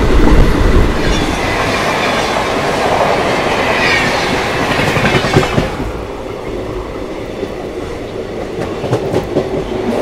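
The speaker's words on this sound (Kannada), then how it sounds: "Chennai central Mysuru Vande Bharat express" The Chennai Central–Mysuru Vande Bharat Express passes close and loud, a heavy rolling rumble with rhythmic clickety-clack of wheels over rail joints for the full ten seconds.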